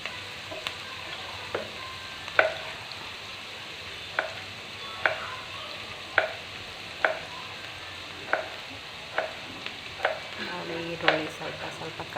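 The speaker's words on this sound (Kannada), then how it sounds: "ಈರುಳ್ಳಿದು ಹಸಿ ಸ್ಮೆಲ್ ಹೋಗೋವರೆಗೂ ಚೆನ್ನಾಗಿ ಫ್ರೈ ಮಾಡಿ." Onions frying in a pan with a steady low sizzle, broken by regular clinks and scrapes of a spoon stirring roughly every second.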